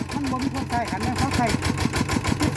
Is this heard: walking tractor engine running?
yes